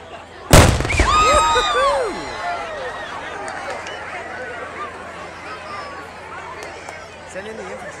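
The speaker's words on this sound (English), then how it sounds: "We got off a shot before they could." A single black-powder musket shot rings out at a Kings Mountain battle reenactment outdoors, a sharp loud crack with a rolling echo fading over about two seconds. People talk and move in the background afterward.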